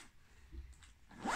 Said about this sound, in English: I just zipped my finger.